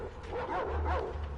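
Dogs in the Metro Exodus video game yelp and whimper in a brief, fairly loud cluster of overlapping cries over a low rumbling background.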